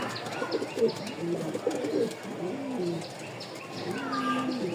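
Pigeons cooing close by in repeated soft, throaty warbling phrases over a steady background murmur.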